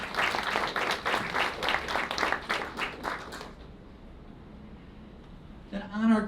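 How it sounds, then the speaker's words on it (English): Audience clapping at a youth, tech and wellbeing panel event, a moderate round of many hands that sustains for a few seconds and then fades out, followed by a brief voice. "Let's give it up, a round of applause"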